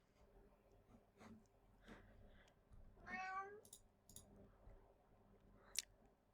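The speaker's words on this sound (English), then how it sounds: "that's my cat." A pet cat meows once near the microphone, a short rising and falling call standing out over a quiet room with faint clicks and rustling around it.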